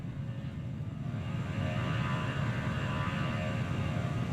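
A fixed-wing airplane in Transport Fever 2 drones steadily across the map, a broad engine rumble that swells slightly louder after the first second and holds constant.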